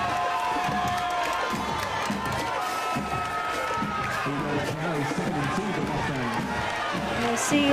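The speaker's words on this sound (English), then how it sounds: "See a look at the crowd there as some of the players are trying to get this Millville faithful a little more amped up." A high school football crowd cheers steadily in the stands at a Millville Thunderbolts home game against Mainland, a dense roar of shouts and whoops heard from a distance throughout.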